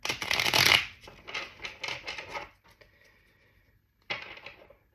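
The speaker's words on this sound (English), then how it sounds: "I gotta give it a bit of a shuffle here" A deck of playing cards is shuffled up close in quick riffling bursts: a loud flurry, several shorter rapid riffles, a pause, then one more burst near the end, with no talk.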